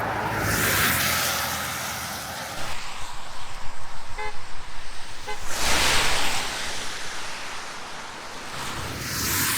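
Car horns sound in short repeated toots on a road amid heavy rushing wind and traffic noise, the honks brief and partly masked, with a broad roar of passing vehicles before and after.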